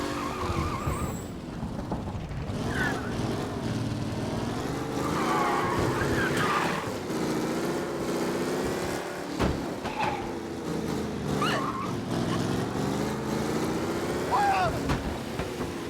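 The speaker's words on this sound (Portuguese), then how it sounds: "Eu vou devagar com o carro agora." Car engine in Mafia: Definitive Edition running steadily with wavering pitch as the vehicle drives slowly, a continuous mid-loud drone with a few bumps and knocks.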